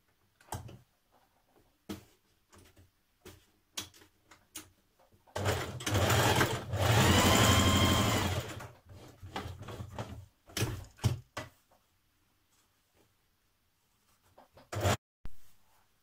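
A sewing machine stitches facing to a cuff, with scattered short clicks and taps, then a sustained whirring run of several seconds, a few more short bursts, and one last brief run near the end.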